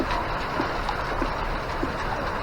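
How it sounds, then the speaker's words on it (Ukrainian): Steady rain hissing continuously, with a few faint drops tapping now and then beneath the wash of noise. "У нас такий дощик."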